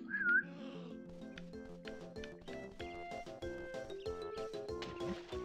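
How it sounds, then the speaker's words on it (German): A short, bright whistle from the video game Banjo-Kazooie rises and falls at the very start, then gives way to continuous bouncy game music with plucked and tinkling notes. "Er pfeift schon."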